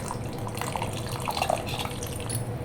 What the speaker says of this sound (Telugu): నాకు సరిపోయిన వాటర్ పోసుకోవాలి